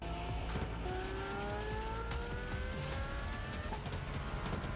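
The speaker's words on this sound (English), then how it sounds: "Car sounds badass." A Lamborghini sports car engine in the video game PUBG drones and climbs through the gears, rising tones repeating as it accelerates, heard steadily without any talking.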